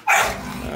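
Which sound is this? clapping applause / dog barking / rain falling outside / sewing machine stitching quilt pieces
dog barking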